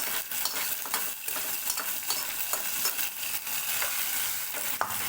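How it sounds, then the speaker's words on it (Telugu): Garlic tempering is stirred into gongura curry in a pan, a steady close sizzle broken by repeated scraping stirs and soft clacks of a spoon. "ఇప్పుడైతే ఈ తాలింపుని గోంగూరలో అయితే వేసుకోవాలండి"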